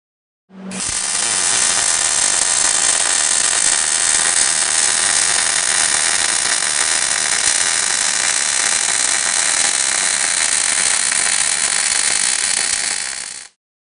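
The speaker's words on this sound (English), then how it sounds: "welding with a slight weave, pausing side to side to avoid undercut" A MIG welder running a butt weld with a slight side-to-side weave, giving one steady, loud broadband hiss and crackle that carries for about thirteen seconds without a break and then stops.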